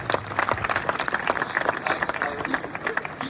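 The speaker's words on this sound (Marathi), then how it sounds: "जोरात टाळ्या व्हायला पाहिजे." Audience applause breaking out at a gathering, a crowd clapping in uneven bursts with some voices mixed in, moderately loud and lively across the short span.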